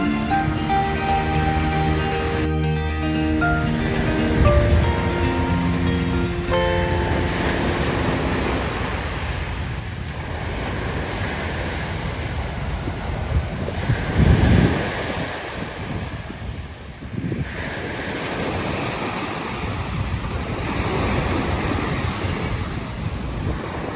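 Ocean waves rolling in at Manila Bay, a continuous surging wash with heavy wind buffeting the microphone, swelling louder in a few surges, preceded briefly by a faint musical tone.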